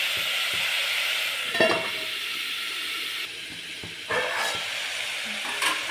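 Vegetables frying in a pan, a steady close sizzle and hiss with occasional scraping stir strokes and clinks, no voices.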